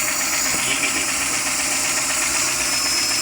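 A Suzuki G16 car engine idling with oil smoke, a steady close mechanical hum with faint knocking, continuous and loud with no talk.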